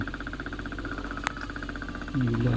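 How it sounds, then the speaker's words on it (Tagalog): A small RS755 12-volt DC fan motor, poorly mounted, whirs steadily with a buzzing, rattling vibration, then gets louder and lower near the end. "Nag-iingay siya. Kailangan siguro nakamount to ng maayos yung motor."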